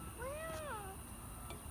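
A cat gives a single clear, rising-and-falling meow, close and fairly loud, alone against a quiet indoor background with a steady electrical whine.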